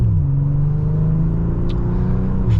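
A 2025 BMW M340i accelerating in sport mode, its engine a steady close rumble that rises through gears with automatic shifts and no speech over it.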